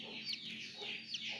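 A broody hen that has been sitting on turkey eggs for about a month clucks in two short, close bursts with a pause between them, and no voices are heard.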